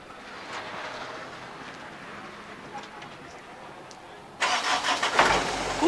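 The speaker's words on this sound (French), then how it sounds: "il démarre le camion" A truck engine starting at a rally in the Algarve, Portugal, bursting in loud and close after a stretch of quiet outdoor background noise.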